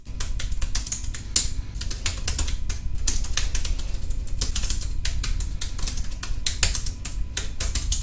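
Typing on the keyboard of a GemiBook Xpro budget laptop, a dense, steady patter of light plastic key clicks at close range, continuing without pause and with no speech.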